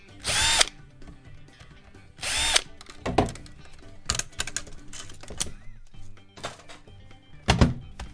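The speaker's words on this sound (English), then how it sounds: "My goal is to do all the drill stuff first before I bust out the tri-wing." A power drill whirs in several short, sharp bursts while backing screws out of a Nintendo Wii console during a teardown, close and loud with clicks and handling noise between bursts.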